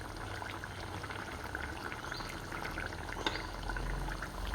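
Thede fish pulimunchi curry coming to a boil in a pot, a steady close bubbling and simmering hiss that runs unbroken throughout with no voices.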